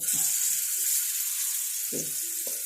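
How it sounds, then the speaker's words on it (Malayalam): Fish frying in hot oil in a home kitchen makes a bright, steady sizzling hiss, broken by a couple of soft, brief knocks or splashes nearby. "മീൻ വറുക്കാൻ എണ്ണ ചൂടായിട്ടുണ്ട്"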